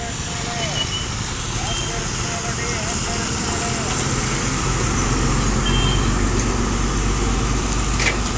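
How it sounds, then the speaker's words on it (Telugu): A bus running from Krosuru to Guntur, near a buffalo market, gives a continuous heavy engine rumble with road noise. A faint tonal beep sits in the mix, and a voice talks over it. "కోసూరు నుంచి గుంటూరు వెళ్తున్న బస్సు"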